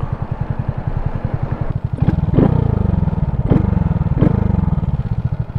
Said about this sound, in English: You can definitely hear that intake now.